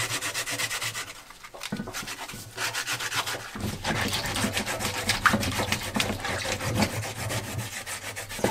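Crinkled aluminum foil scrapes steadily across raw burdock root to rub off the skin, a continuous close rasping that pauses briefly and then resumes.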